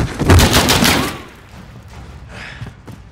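Gunfire from Call of Duty: Modern Warfare, a loud burst of rapid overlapping shots for about a second, then quieter scattered shots and ambient battle noise.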